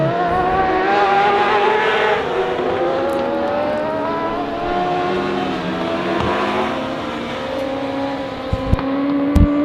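A race car at Honor Speedway on Mechanics Night, running loose out of turn 4: a sustained, loud engine roar with rising pitch as it accelerates, steady over several seconds, with a couple of sharp knocks near the end and no talking.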